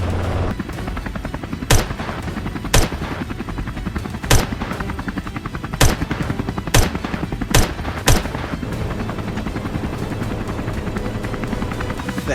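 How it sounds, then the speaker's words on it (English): Gunfire from a helicopter hunting wild boars: sharp, loud single shots crack out at irregular intervals over the steady, droning whir of the rotor, about seven reports in all before the engine noise carries on alone. "Bullets slice through the air."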